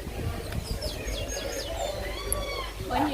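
Hens and peacocks call in a Barbados nature park: several short rising and falling bird calls and chirps over a low, busy outdoor background, with people talking nearby.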